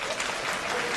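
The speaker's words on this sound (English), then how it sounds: "clap if you would break up with them" Stand-up comedy audience at a Taylor Tomlinson show bursts into a short, dense wave of clapping in a theater, loud and unbroken for about a second.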